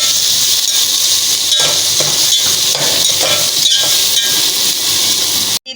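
Pumpkin pieces fry in hot oil in a pan for halwa, giving a steady loud sizzle and hiss with faint clinks, running alone and cutting off abruptly at the end.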